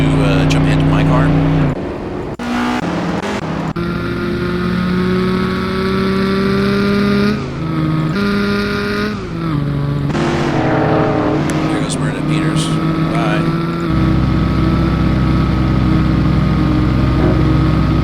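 A race car engine in a racing video game at Watkins Glen, loud and steady, with pitch shifting through gear changes and revs, while someone talks over it.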